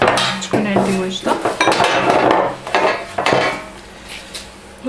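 A metal baking tray is handled and set down while making Eid shortbread sablé cookies, giving several close clanking, scraping knocks in an irregular sequence with faint talk under it.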